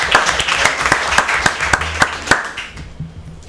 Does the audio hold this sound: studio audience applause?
yes